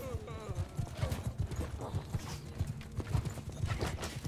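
Hooves clip-clop rapidly as horses gallop across a battlefield in Mount & Blade II: Bannerlord, a dense, steady drumming of hoofbeats with an occasional whinny, close and continuous under a busy game mix.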